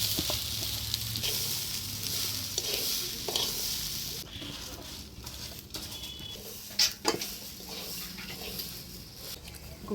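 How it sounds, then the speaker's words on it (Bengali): Gobindobhog rice being stirred in a pan with frying cashews and raisins, giving a soft continuous sizzle with scraping stir strokes and a couple of brief clinks, fairly quiet and close, with no talking. "গোবিন্দভোগ চাল দিয়ে ভালো করে নাড়াচাড়া করে নিব।"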